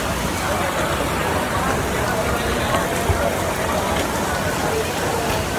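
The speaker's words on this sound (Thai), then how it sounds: "ฝนตกหนักพี่น้อง" Heavy rain pours steadily during an outdoor dinner at Jalan Alor street food area in Kuala Lumpur, Malaysia, a dense continuous hiss with faint crowd babble underneath.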